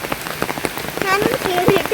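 Heavy rain patters densely on a surface at a park, with irregular drips and splashes, while a voice speaks briefly underneath.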